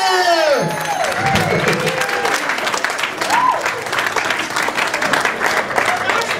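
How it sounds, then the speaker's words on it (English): Audience applause and cheering at a Possum Queen pageant game show, a steady wash of clapping with a few whoops, while a host speaks over the start. "Let's have a round of applause"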